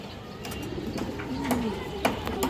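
Fancy pigeons, including females, coo softly with low rolling calls over a background of bird chatter and a faint voice.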